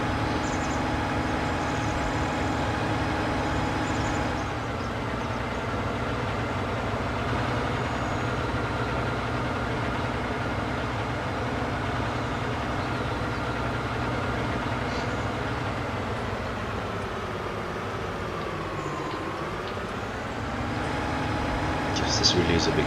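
A big tractor in Farming Simulator 19 runs with a constant deep engine drone that dips briefly in pitch and then rises again, steady and continuous, with talk over it.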